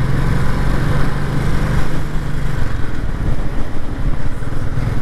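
A Royal Enfield Classic 350 motorcycle engine runs nearby with a steady low thumping rumble and slight swells in revs, no talk heard.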